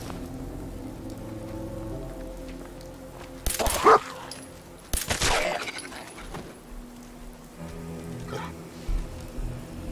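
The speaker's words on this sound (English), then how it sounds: "Oh shit, dog." A dog barks a couple of times in the Fallout 4 game world, short mid-level bursts over a steady rain-like ambient bed of hiss and low rumble.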